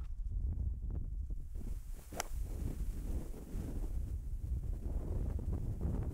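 Strong headwind gusting across an outdoor golf course during a professional match, a steady broadband wind roar buffeting the microphone throughout, loud and continuous with no talk.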